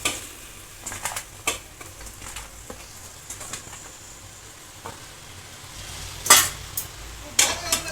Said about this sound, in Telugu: మటన్ ముక్కలు వేసుకోవాలి.